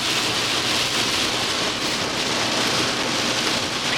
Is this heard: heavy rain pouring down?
yes